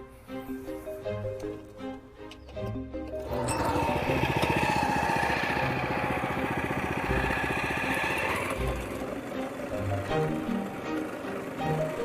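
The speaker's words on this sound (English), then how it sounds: "the next step is to remove your existing lawn using a turf cutter" Turf cutter stripping an existing lawn, a steady petrol engine drone that starts up after about three seconds and runs loud and continuous, with quieter mechanical clatter beforehand.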